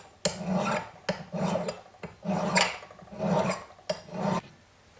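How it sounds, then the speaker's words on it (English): A sterling silver ring's ends are filed by hand in a miter jig. About five steady back-and-forth rasping strokes sound close and fairly loud, each lasting under a second, with no talking. "just put the ends in the miter jig and file them and then sand them down"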